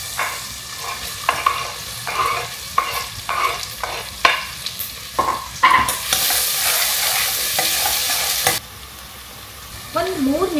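Cumin, slit green chillies and chopped onion sizzle in hot oil, stirred with repeated scraping strokes, then a louder burst of frying before it quietens and a spoon clinks.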